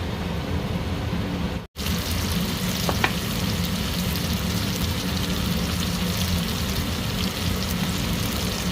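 Tomatoes frying in oil with ginger and garlic, a dense steady sizzle throughout with a brief cut near the start and a faint clink of utensil.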